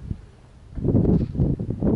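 Strong wind blows outdoors in a large vegetable garden, buffeting the microphone with a low, gusty rumble that swells and surges, loud and close, with no talk.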